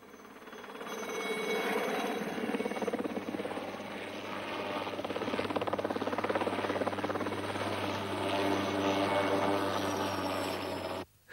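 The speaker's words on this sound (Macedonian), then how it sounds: "Хеликоптер." A helicopter drones with a steady rotor thrum and a high engine whine, loud and continuous for about ten seconds before cutting off abruptly.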